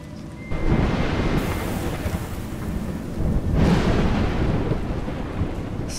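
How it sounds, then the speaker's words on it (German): Thunderstorm in the video game A Juggler's Tale: two loud rolling thunder crashes over steady heavy rain, the first near the start and the second a few seconds later, with no voices. "Gewitter wird stärker."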